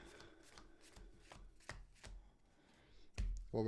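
A deck of Disney Lorcana trading cards being shuffled by hand, a run of quick crisp riffles and taps in steady rhythm, close and fairly quiet, ending in a louder burst of card handling.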